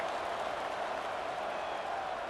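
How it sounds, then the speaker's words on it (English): A football stadium crowd at a Miami rivalry game roars in a steady, dense wash of cheering and applause right after a touchdown, sustained and fairly distant. "this crowd is buzzing after that last score"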